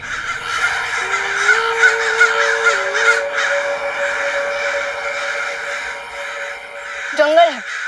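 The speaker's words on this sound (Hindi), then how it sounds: "अचानक से हमारे आसपास इतने सारे कौवे कैसे आ गए?" A large flock of crows caws repeatedly and overlapping in a forest, loud and close, while a steady tonal hum runs underneath. A brief voice cuts in near the end.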